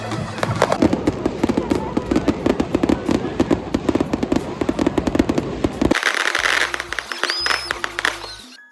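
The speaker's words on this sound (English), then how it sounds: "the night ended with some really cool fireworks." Rapid, crackling bursts of fireworks at a graduation night, popping continuously, loud and dense, before thinning into a few scattered pops and a low hum near the end.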